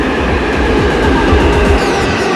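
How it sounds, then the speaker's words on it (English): A Korean subway train runs underground, heard from inside the car as a loud, continuous rumble with rhythmic wheel clatter and no voices. "Korean tube trains are very modern, and they have themed carriages"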